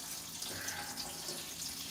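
Tap water runs steadily from a kitchen faucet in a home, a continuous close hiss and splash with no voices.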